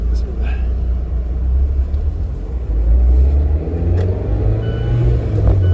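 A Mazda Miata with a manual transmission pulling away, its engine a loud, steady low rumble from inside the car with mild rises as it accelerates.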